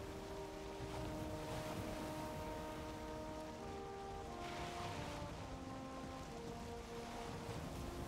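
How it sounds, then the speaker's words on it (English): A small boat's engine hums with tonal drones amid wind and splashing choppy water in the video game Valheim, a steady rough wash of sound with no voices. "I don't like choppy weather in it's a small boat."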